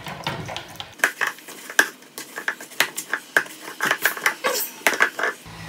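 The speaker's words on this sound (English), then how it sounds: "it is time to add it to the dry ingredients, obviously with the frozen grated butter" Rough dough with frozen grated butter and dry ingredients being worked in a bowl, a run of close, sharp scrapes and knocks from a utensil against the bowl in uneven repeated strokes.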